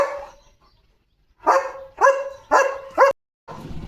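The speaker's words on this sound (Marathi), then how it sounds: "बघा चिमणीला कसं भुंकतोय." A German Shepherd barks at a sparrow: one faint bark, a pause, then four sharp, close barks in quick succession and a softer trailing sound.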